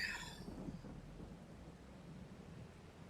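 Rain patters steadily in Farming Simulator 22 while a low rumble of thunder rolls through at the start and fades under the continuous downpour.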